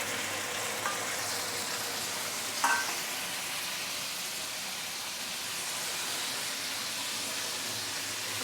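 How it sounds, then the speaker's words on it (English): Marinated chicken sizzles steadily in a hot frying pan as an even, hissing crackle, with a brief clatter near the start. No voices are heard. "Ooh, I love to hear this sizzling sound."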